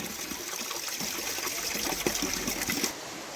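White Spring water running from a tap outdoors in Glastonbury: a steady splashing, trickling stream that continues throughout, close and fairly quiet, with no talk.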